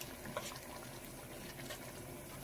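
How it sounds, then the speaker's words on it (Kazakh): Water is poured into a pot of barley porridge, a soft, steady rushing pour that stays faint and even throughout. "Енді су қосамыз."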